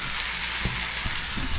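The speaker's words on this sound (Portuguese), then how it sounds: "ela está fritando carne." Meat frying in a home kitchen pan: a continuous bright hiss and crackle of sizzling fat, with a few soft scrapes or stirring knocks underneath, steady and close.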